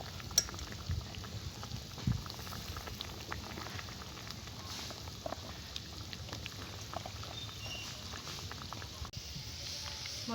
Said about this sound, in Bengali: বন্ধুরা, তরকারির জলটা ফুটছে